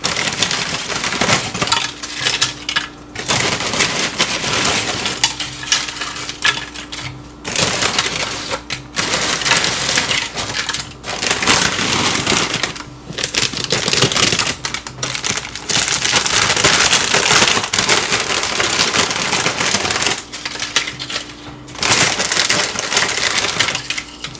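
Corn chips being smashed down for a birria casserole, repeated dense crunching and crackling close by, coming in bursts separated by brief pauses.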